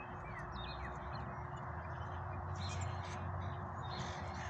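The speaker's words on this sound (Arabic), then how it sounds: "زي ما انت سامع الصوت العصافير تاني جميلة." Sparrows chirp faintly on a Montana morning outdoors. A few brief tweets come early, and a soft, constant low hum fills the background.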